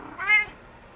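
A pet cat lets out a single short meow, close and moderately loud against a quiet indoor background.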